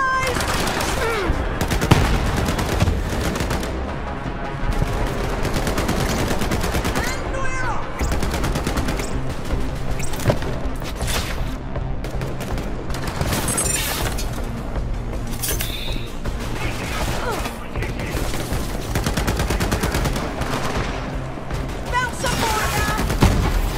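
Dense, continuous Borderlands 3 gunfire fills the whole stretch, rapid automatic bursts and heavy shots layered with in-game combat noise at constant high loudness, with a voice occasionally calling out underneath.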